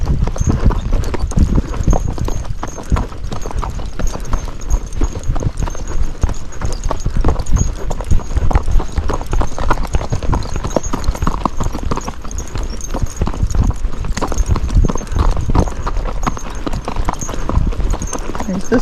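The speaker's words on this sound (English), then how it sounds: "You can hear his footfall." A Missouri Fox Trotter gaiting at a quickened pace near a construction area, its hooves striking in a steady, rapid clip-clop rhythm, close and prominent throughout.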